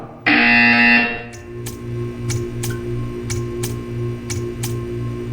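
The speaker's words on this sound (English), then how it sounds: "You will hear a buzzer." A loud, harsh electronic buzzer from the video game Portal 2 blares for about a second, then regular ticking clicks repeat over a steady hum.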